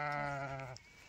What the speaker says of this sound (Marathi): त्यामुळे ही वराडते मेंढी.